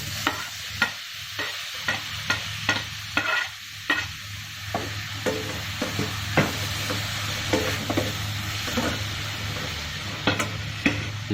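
Tomato sautéing with ginger garlic paste in a pan for beetroot kurma, with a constant close sizzle and a quick, regular series of spoon scrapes and taps against the pan, no talking.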